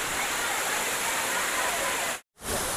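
Gandahati waterfalls in Odisha, water pouring down in a loud, steady broadband rush heard up close, broken only by a brief silent gap near the end before resuming.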